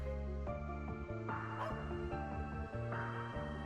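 A guard dog in the video game Trails Into Reverie barks in steady repeated bow-wows over game music, with no one talking.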